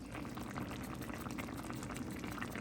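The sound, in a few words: homemade chicken and dumplings simmering in a covered pot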